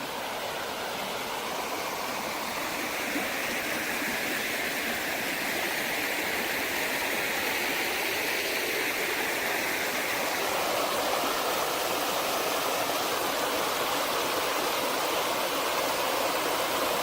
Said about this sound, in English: My little creek definitely swole up.